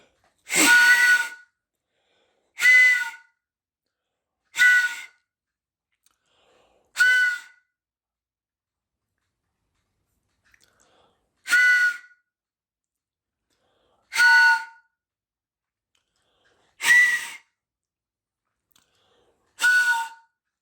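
A homemade multi-note train whistle sounds eight short, breathy blasts at regular intervals with silent gaps, each blending a few pitched tones into a chord-like toot.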